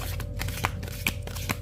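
Tarot cards being shuffled by hand: a run of soft riffling flutters and light slaps, close and fairly quiet, with brief crisp bursts at a loose rhythm.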